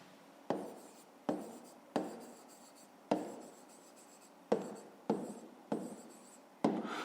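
A pen writes on paper during a fifth-grade math exercise, with about nine distinct scratchy strokes in an uneven rhythm, close and quiet with no other sound.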